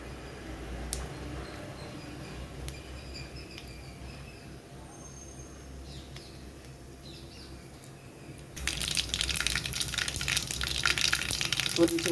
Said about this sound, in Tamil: கொஞ்சம் கடுகு போட்டுக்கோங்க. போதும். அது நல்லா பொரிஞ்சு வரட்டும்.